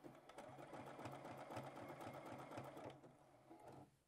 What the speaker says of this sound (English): I'm gonna zigzag it